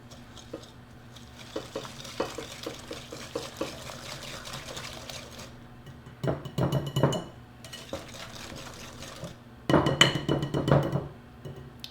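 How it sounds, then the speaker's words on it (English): Cake batter for zucchini bread, with oil, vanilla and sugar, stirred by hand in a bowl: a steady run of soft scraping, clinking strokes, then two louder bursts of brisk mixing near the end. "Give that a mix."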